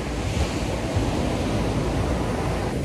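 Ocean waves wash ashore at Bavaro Beach in Punta Cana, heard as a continuous broadband roar of surf mixed with wind buffeting the microphone, steady and fairly loud without talk.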